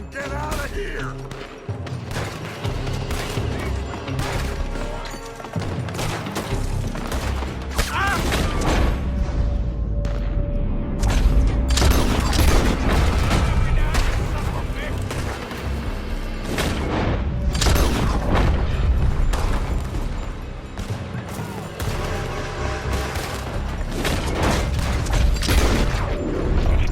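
Gunfire coming from a building in the shootout of Red Dead Redemption 2, repeated loud shots and booms over a dense battle mix with music, and a character's voice heard.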